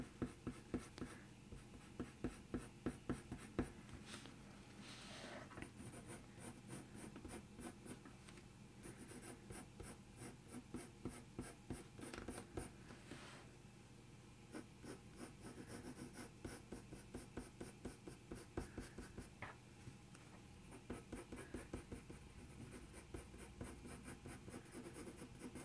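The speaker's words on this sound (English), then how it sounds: "what I'm doing is just moving the pencil along the paper so it really lightly blends out" Pencil strokes on paper while drawing fur: long, light, rhythmic scratching repeated steadily and close, with no talking over it.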